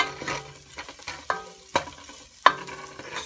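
Finely chopped garlic and onion fry in about a tablespoon of oil for Turkish soup, giving a steady low sizzle broken by sharp scraping stirs of a spoon against the pan, with no talking.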